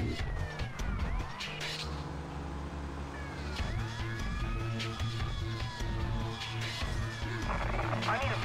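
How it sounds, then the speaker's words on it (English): A vehicle siren in the Sopranos Road to Respect video game wails in rising and falling sweeps over game engine noise and music, moderately loud and continuous throughout. "I feel like the siren makes it worse sometimes."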